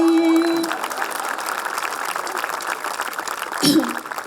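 An audience at a Holi festival event claps in a steady burst of applause after a devotional song, with a brief voice near the start and a short vocal sound near the end.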